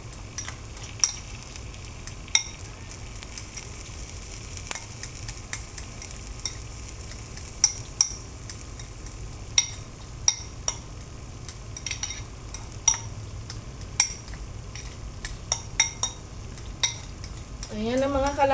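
An egg fries in a pan on a home stove, a low steady sizzle running under repeated sharp clinks and scrapes of a utensil against the pan, with a brief louder crackle near the end.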